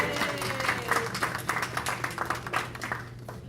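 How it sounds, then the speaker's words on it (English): A modest senior center audience at a clay jewelry exhibit and runway show gives scattered, fairly faint applause for a storyteller, with a low steady hum underneath and the clapping thinning out toward the close. "So let's give her a round of applause"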